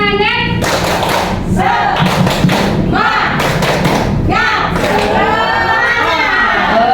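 A group of teachers performs a 'tepuk semangat' cheer clap, loud rhythmic bursts of clapping in patterned sets with short pauses, mixed with voices chanting along in a classroom or hall.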